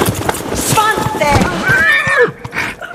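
A pony at a show-jumping lesson neighs in several rising and falling whinnies while hooves thud and clatter close by, with people talking around it.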